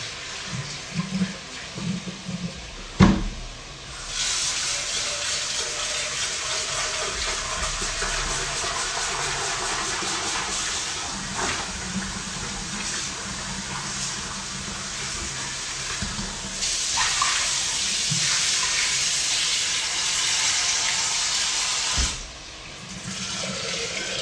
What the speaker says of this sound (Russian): Все, я выливаю эту воду